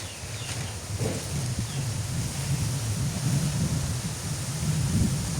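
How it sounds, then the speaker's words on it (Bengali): Strong wind rising before a rainstorm in a village, a steady low rushing roar with gusty buffeting that swells toward the end, no voices. "প্রচুর বাতাস উঠে গেল।"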